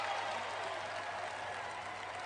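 A home basketball crowd at Iowa State, hosting Kansas in a Big 12 game, cheers and applauds in a steady, loud roar that fills the arena without a break.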